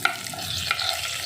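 Urad dal and chana dal frying in hot oil with cumin, giving a steady, close sizzle with light crackling throughout, heard alone.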